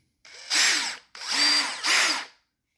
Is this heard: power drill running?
yes